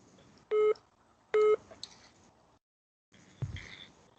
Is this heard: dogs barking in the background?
no